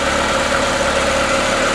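Lada engine idling steadily with its lambda sensor disconnected, a close, even mid-pitched hum and vibration running uninterrupted with no change in rhythm.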